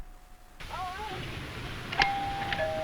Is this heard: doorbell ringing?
yes